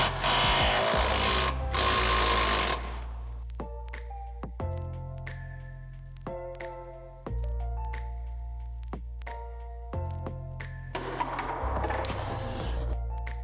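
A pneumatic impact gun works loose an A-arm bolt on a lowered Ford F-150 truck, firing in several loud, close bursts of rattling hammering separated by short pauses.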